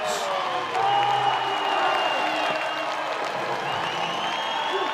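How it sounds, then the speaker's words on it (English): A baseball crowd roars after a moonshot home run to deep left in a Tarleton State versus UC Santa Barbara game, a sustained loud cheer and applause filling the stadium, steady and broad throughout. "off the bat, the crowd started to roar"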